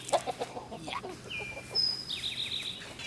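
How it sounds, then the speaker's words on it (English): Chickens moved onto fresh grass cluck in a quick rhythmic series of soft close clucks, then let out longer drawn-out calls, moderately faint against a quiet outdoor background. "Just love seeing chickens on fresh grass because they look so happy."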